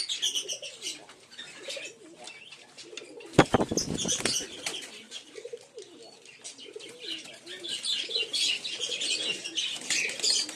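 Giribaz and Madrasi pigeons coo in low, rolling murmurs in a loft at evening feeding, with a sudden loud burst of wing flapping partway through and bright chirping from other birds in the background.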